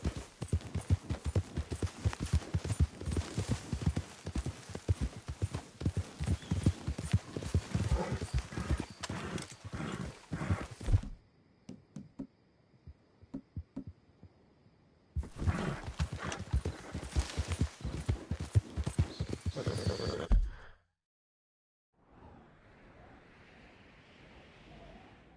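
Horse hooves gallop in a PS4 video game, a rapid clip-clop that runs loud, stops for a few seconds, resumes, then gives way to a soft wash of wind or surf.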